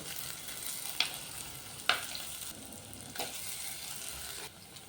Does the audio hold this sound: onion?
yes